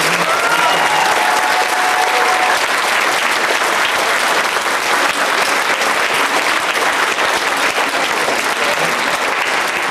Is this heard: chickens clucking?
no